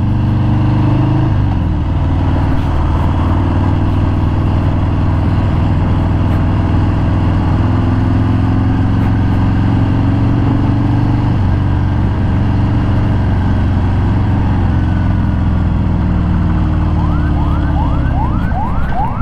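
A 2018 Harley-Davidson Fat Bob Black Denim ABS rumbles with a steady, deep, throbbing engine drone that stays loud and constant throughout, and a few brief chirps come near the end.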